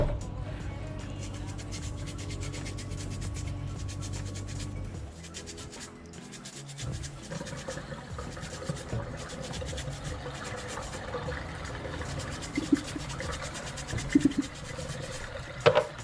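A brush works down into the pleats of an Indian motorcycle's high-flow air intake filter, giving steady close scratchy scrubbing strokes with wet rubbing, a brief pause near the middle, then brisker scrubbing with a few knocks.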